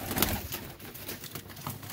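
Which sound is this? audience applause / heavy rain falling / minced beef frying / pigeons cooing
pigeons cooing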